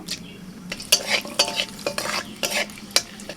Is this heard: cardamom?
yes